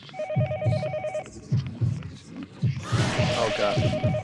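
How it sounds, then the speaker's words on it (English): A telephone rings repeatedly in the horror game Yomawari: Midnight Shadows, its trilling bursts sounding near and steady before giving way to a harsher, noisier stretch, with scattered thumps throughout. "Not gonna answer that phone. Keep ringing."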